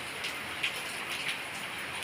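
Light drizzling rain falls steadily in a faint, even patter, with a couple of brief soft drips standing out; no voices.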